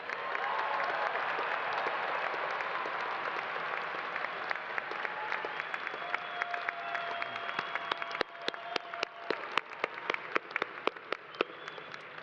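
A commencement crowd at Miami University's fall 2023 ceremony applauds the graduates, a dense, steady wash of clapping that thins toward the end into scattered individual claps.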